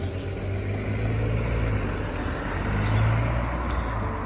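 A car at Hughes Gap on a mountain trail drives off, a steady low engine rumble close by that swells slightly and holds without fading much over a few seconds.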